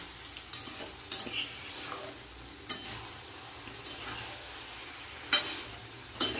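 Taro stolons and prawns being stirred in a pan, giving sparse spoon scrapes and light clinks spaced a second or so apart over a faint, steady sizzle, close and fairly quiet with no speech.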